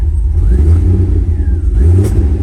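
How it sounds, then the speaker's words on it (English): Revving engine of a 1991 Mercedes R129 500SL with a faulty position sensor, a loud steady rumble rising and falling with throttle, with a faint pop of a possible backfire near the end. "And there we go, a little backfire."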